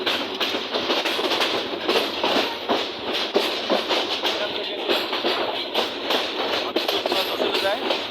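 A passenger train rolls at low speed toward Bonarpara railway station, its steady rumble and clatter loud and close throughout, with someone talking over it.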